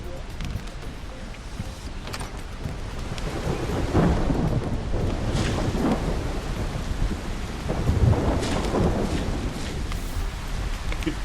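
A thunderstorm with steady rain and repeated rolling thunder: deep rumbles swell around four seconds and again near eight, over constant hissing rainfall, fairly close and loud throughout.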